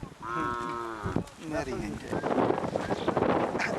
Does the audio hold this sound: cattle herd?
yes